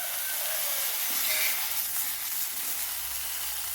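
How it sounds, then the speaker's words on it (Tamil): Okra sautés in a little oil in a kadai. A soft, even hiss of sizzling runs through, fairly quiet and close, with no other sounds over it. "நான் கடாயில் கொஞ்சமாக எண்ணெய் விட்டுருக்கேன் இந்த வெண்டைக்காயை வதக்கிறதுக்கு"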